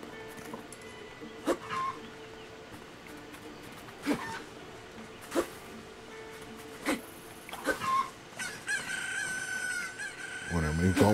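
Chickens in Zelda: Tears of the Kingdom cluck and a rooster crows in short repeated bursts spaced a few seconds apart over a faint ambient bed, with game sounds thickening toward the end.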